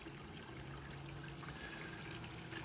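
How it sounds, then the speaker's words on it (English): Water pours steadily over the riffles of a sluice box and splashes into a catch tub, a continuous close trickling wash at even loudness with no talking. "I've got lots and lots of water running over that thing"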